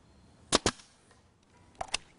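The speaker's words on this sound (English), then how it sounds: "I cut miters where the branches meet in the corners and use a nail gun to attach the branches in place" A nail gun fastening mitered branches onto a rustic wooden table, two quick pairs of sharp pneumatic bangs, loud and close, separated by a short quiet gap.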